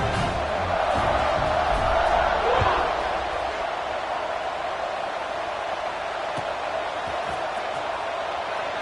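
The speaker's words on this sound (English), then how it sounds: "this crowd is buzzing after that last score" Stadium crowd at a college football game, Nebraska vs Nevada, keeps up a steady loud buzz that peaks early, then settles into a broad roar, with a few faint thumps in the mix.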